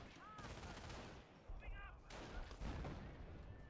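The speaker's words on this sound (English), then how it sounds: "He's getting suppressed by a machine gun and shot by two squads." Machine gun fire in Company of Heroes, a World War II real-time strategy game, heard as dense rattling bursts mixed with other battle noise, at a low level throughout.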